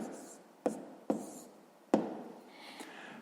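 A pen writes down a sixth-grade math answer on paper, with three distinct taps and scratchy strokes up close, the stretches between them soft and rustling.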